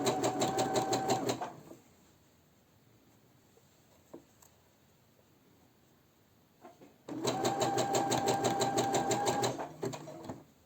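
A domestic sewing machine stitches a bra seam in two bursts, a steady rapid run at the start, a pause with faint handling, then another close, even run of stitching.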